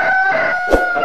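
A lemon street comb gamecock, a yellow-legged fighting rooster, crows loudly and close in one sustained call that ends in a short rougher burst.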